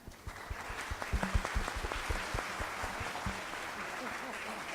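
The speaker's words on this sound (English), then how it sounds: "Please give them another round of applause." Audience at an international audit seminar applauds as speakers leave the stage: soft, scattered clapping sits low in the mix while voices talk over it.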